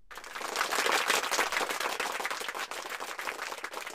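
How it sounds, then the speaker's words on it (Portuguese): An audience at a poetry performance event claps for a poetry festival organiser, dense steady applause rising quickly and holding strong for about four seconds, no voices over it. "Aplauso para Nadine."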